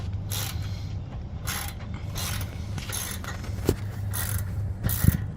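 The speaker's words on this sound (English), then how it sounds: "Right now we're using the jack" A jack is worked with a repetitive ratcheting, mechanical clicking and creaking in regular pumping strokes, close and fairly loud, with a couple of sharper knocks.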